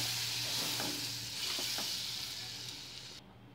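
Butter melts in a pan for white sauce with a steady, even sizzle, and a few faint stirring scrapes come through before the sound cuts off abruptly near the end.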